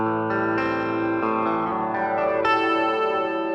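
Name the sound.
Gibson electric guitar played with clean tone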